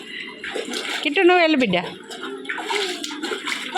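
A child swims, splashing water in short bursts, while people talk loudly nearby over the sloshing.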